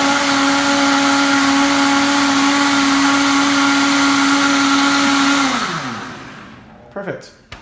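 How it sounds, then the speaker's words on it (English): A blender runs loud and steady while it grinds almonds for almond milk, a constant whirring roar that winds down near the end as the motor slows, followed by a couple of short knocks. "Not when you have a blender"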